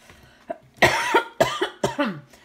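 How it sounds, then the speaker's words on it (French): Someone nearby coughs in a run of several harsh, loud bursts, one after another. "Ici, pardon, excusez-moi. Ça tousse"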